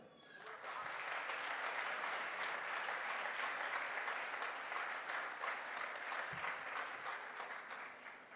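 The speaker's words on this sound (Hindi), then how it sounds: "एक बार तालियां हो जाए" Audience clapping at a direct selling motivational event, a steady broadband patter of many hands lasting throughout, fairly soft and distant, with a couple of brief low thumps.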